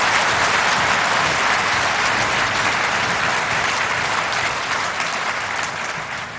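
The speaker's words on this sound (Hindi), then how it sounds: "एक बार आपको तालियों के गड़गड़ाहट से उनको स्वागत करिए।" Loud, sustained applause from a large audience welcoming the Prime Minister at a Basava Jayanti convention in Delhi, a dense continuous roar of clapping that slowly tapers toward the end.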